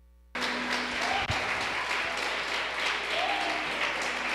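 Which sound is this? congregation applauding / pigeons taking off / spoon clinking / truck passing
congregation applauding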